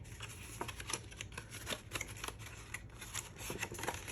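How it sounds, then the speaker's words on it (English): Card stock being folded down along its score lines for a gift card set, a run of soft crisp creases and rustling paper close by, no talking. "you're going to open that up and you're going to fold down its side"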